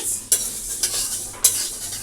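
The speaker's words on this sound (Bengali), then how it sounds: "এবারে মুগ ডাল ভাজা বসিয়েছি" Soft sizzling of mung dal dry-frying in a pan with three sharp scraping stirs of a spatula spaced through the clip, close by, no voices.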